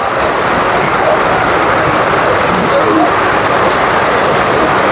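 Rain falls outside a small shop, a dense, loud, continuous hiss of heavy downpour without pauses or voices.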